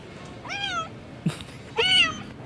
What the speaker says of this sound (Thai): สอนวิธีการเรียกแมวแบบง่ายๆนะครับ